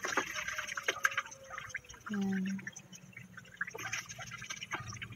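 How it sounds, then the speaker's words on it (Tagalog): Running water splashes while dishes are washed by hand at home, a steady, fairly faint trickle and clatter with a voice talking over it at times. "kailangan natin maghugas ng plato"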